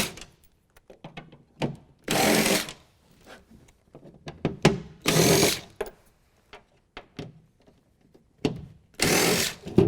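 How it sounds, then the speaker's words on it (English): Power driver with a T30 bit backing out Torx head bolts from truck bed panels, three loud bursts of whirring separated by clatter and handling knocks. "That requires taking out these 6 Torx head bolts. Now we're going to use a T30 to take those out"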